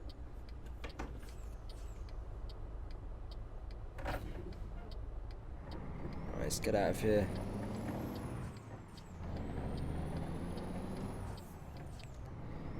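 A diesel truck in American Truck Simulator rumbles along steadily with low engine drone, a hiss of air brakes midway and some clicks and shifts, while a voice talks over it.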